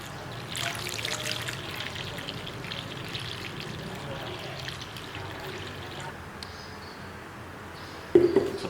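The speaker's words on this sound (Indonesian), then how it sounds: "Langsung saja kita tuangkan, namun kita tuangkan hati-hati jangan sampai mengenai bagian atas dari bata." Water poured slowly and carefully into a container around a red brick, a soft continuous trickle running steadily at close range, ending in a brief clatter.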